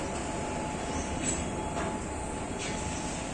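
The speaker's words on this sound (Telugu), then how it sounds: "ట్రైన్ కోసం వెయిట్ చేస్తుంటే గూడ్స్ ట్రైన్ వచ్చింది." A goods train rolls past a station platform with a continuous, close rumble and metallic grinding, wheel noise surging faintly in a few spots over a steady roar.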